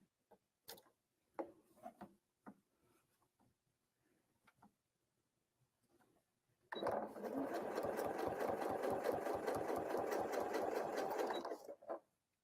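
A sewing machine runs steadily for about five seconds during free motion quilting with rulers, a close, even mechanical whir with rapid needle ticks, preceded by scattered soft handling clicks.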